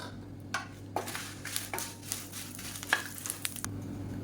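Red chillies and curry leaves roast in a pan for sesame podi, with a light sizzle under repeated scraping stirs of a spoon against the pan, close by and irregular.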